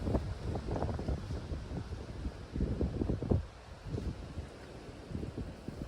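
Strong wind buffets the microphone in rumbling gusts, rising and falling unevenly, with a faint background hiss and no voices.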